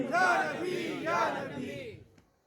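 A crowd at a religious gathering shouts back in unison to chanted slogans, two loud swelling bursts of massed voices, the second trailing off into quiet.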